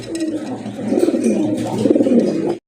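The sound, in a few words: white Bombay pigeons cooing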